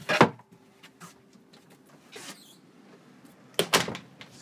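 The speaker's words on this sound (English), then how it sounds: "Glass shower door." A glass shower door in an Airstream Tommy Bahama 27FB trailer sliding and knocking on its track, with sharp clacks at the start and again near the end, separated by quieter rattles and shuffling.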